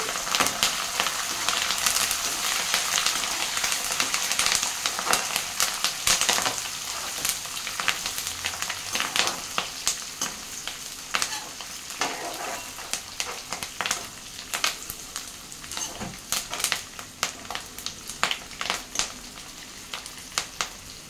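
Green chillies, curry leaves and dry red chillies crackle and sizzle steadily in hot oil, with scattered sharp pops and the scrape of stirring throughout, loud and close.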